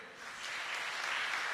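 A congregation applauds together at a Tamil Christian church gathering, steady wash of clapping hands rising after a brief moment and holding at an even, moderate level.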